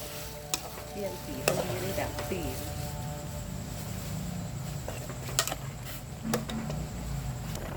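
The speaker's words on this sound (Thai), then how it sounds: "นี่กำลังเดือดแล้วครับกำลังเดือดแล้ว" A Thai mushroom curry comes to a boil in a pot, giving a steady bubbling, simmering wash with a few sharp clinks and knocks, while voices talk over it.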